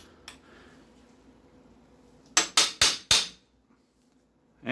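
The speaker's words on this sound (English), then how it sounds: "And you just hammer it back in." Four loud, evenly spaced hammer blows drive a roll pin into a York barbell sleeve, sharp metallic strikes close up with ringing decay, followed by quiet and a fifth hit starting.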